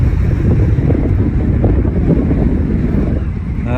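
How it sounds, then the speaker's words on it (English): Strong wind gusting up to 60 km/h buffets the microphone on a boat, a loud continuous low roar with rumbling surges and a faint water wash beneath. "It's just because the wind is unbelievable at the moment."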